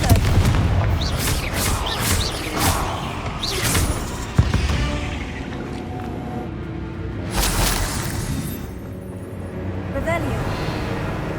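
Confringo and Bombarda spells fire again and again in Hogwarts Legacy, producing a run of sharp bursts and booming blasts amid busy battle noise, with a brief crack partway through and another cluster of hits later on.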